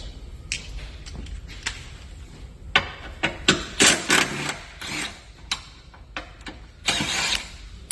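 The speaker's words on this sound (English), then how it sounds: "let me grab my 13 and my impact, and we'll buzz this apart real quick" An impact wrench with a 13mm socket works bolts loose on a Duramax truck, firing in repeated short loud buzzing bursts with pauses between, up close with no talk.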